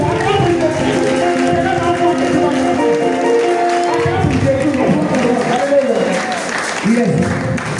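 A church congregation claps steadily in loud continuous applause, with cheering and voices mixed in and a brief dip in the middle before clapping swells again.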